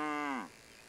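A single cow on a farm gives a loud, close moo that drops in pitch and cuts off, followed by quiet.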